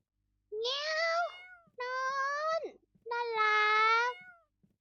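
A cat gives three clear, close meows, each about a second long with short pauses between, while being fed cat food indoors.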